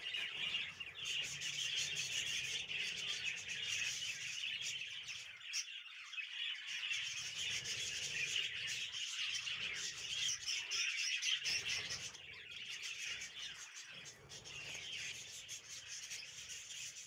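Baby budgies chirp and squawk continuously, shrill and fairly close, while being caught in a cage, with rustling and scraping from handling mixed in.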